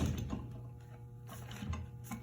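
Woodworking clamp spun and tightened onto the corner of a six-sided wooden box, giving faint, close mechanical clicks and ratcheting turns with soft handling noises, no talk.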